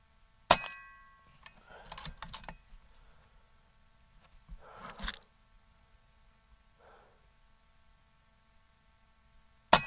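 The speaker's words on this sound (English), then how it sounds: "five shots." Air Arms S510 TXS air rifle shots at a range, sharp isolated cracks spaced several seconds apart, with pellet-impact and handling clatter in between, fairly close and otherwise quiet.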